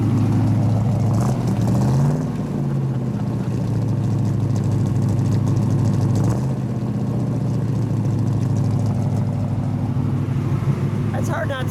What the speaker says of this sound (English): While we've got the hood open, let's start her up.